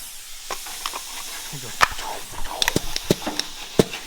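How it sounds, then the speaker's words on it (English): A pneumatic bazooka gun lays 3M seam sealer on a Jeep body during a repaint, giving soft intermittent air hissing punctuated by sharp clicks and taps, moderately close. "So rather than hand pumping every bit of that seam sealer out, I went and got my bazooka."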